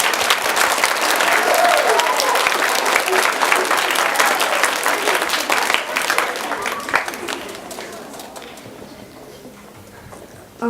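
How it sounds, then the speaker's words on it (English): Loud, dense applause from a concert audience of families and kids at a school band concert, steady for several seconds and then fading out. "So kids, if you wouldn't mind giving your families quick applause"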